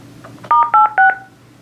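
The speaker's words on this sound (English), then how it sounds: "I'm going to push the park call button, and this is what you're going to hear when you use the feature." ESI ePhone4 desk phone sounds its park call tone: three short two-tone electronic beeps in quick even succession, close and clear, with no talking.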